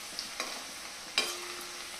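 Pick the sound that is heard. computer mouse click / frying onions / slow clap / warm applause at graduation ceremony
frying onions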